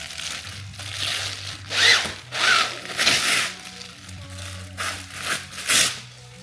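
Kore Essentials battle belt handled with crinkling plastic packaging, producing repeated crackling and rustling bursts, close and moderately loud, alongside a low steady hum.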